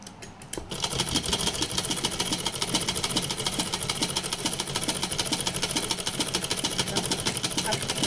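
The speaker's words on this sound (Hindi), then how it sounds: "आपको सिलाई कंप्लीट कर लेना है।" A sewing machine stitches old saree fabric into a gown's hem, running in a loud, steady, fast rhythmic whir after a brief start, continuous and close.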